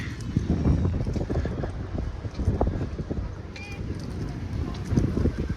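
Gusty outdoor wind at Niagara Falls buffets the microphone in low rumbling bursts, with a voice talking briefly over the blustery noise.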